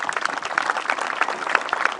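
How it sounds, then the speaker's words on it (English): Audience at an outdoor history festival claps for soldiers after a Second World War weapons display, a short burst of scattered, moderately loud applause heard from within the crowd. "Let's have a round of applause for our soldiers."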